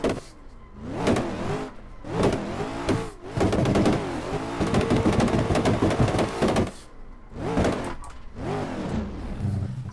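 A race car engine in the Assetto Corsa video game roars and revs up and down repeatedly at Orlando Speed World, loud and close, with rising pitch sweeps and brief drops between bursts.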